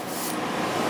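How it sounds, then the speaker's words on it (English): A Graco HVLP 9.5 spray gun sprays paint onto a door in a small workshop, a close, steady hiss of atomised spray in a brief burst. "I'm going to spray this one now"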